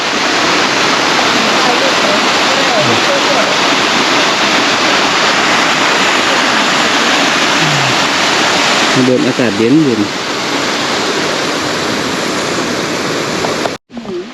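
Tad Maleud waterfall in Laos pours in a loud, steady roar of rushing water that fills the whole stretch, with a person speaking briefly over it partway through.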